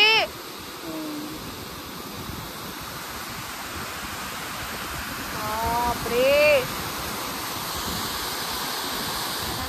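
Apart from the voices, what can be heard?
rushing water at Terna dam, Dhoki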